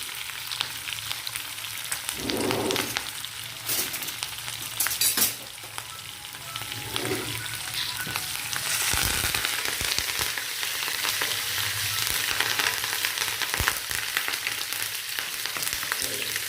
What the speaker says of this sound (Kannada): ಕರ್ಬೇವಿನ ಸೊಪ್ಪಲ್ಲಿ ನೀರಿತ್ತಲ್ಲ ಅದಕ್ಕೆ ಪಟ ಪಟ ಅಂತ ಇದೆ